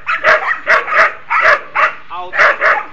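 A dog barks in repeated sharp bursts, about six in three seconds, close and loud during agility training, with a brief whimpering whine between barks.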